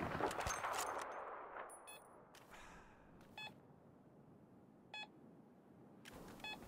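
A single M98B sniper rifle shot with a standard barrel in Battlefield 4, a sharp crack at the start with a decaying tail, followed by several brief electronic beeps spaced a second or so apart.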